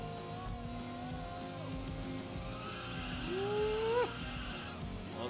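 Race car in the arcade racing game Initial D Arcade Stage Zero, its engine note climbing and dropping through upshifts over a steady drone of game music and effects, with a brief tire squeal near the end.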